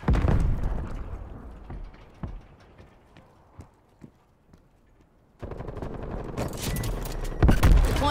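Video game gunfire and explosions from Call of Duty: Black Ops Cold War: loud bursts of shots open the clip, give way to quieter scattered impacts, then a dense barrage of gunfire and a heavy blast near the end.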